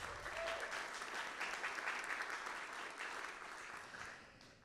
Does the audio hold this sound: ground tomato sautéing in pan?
no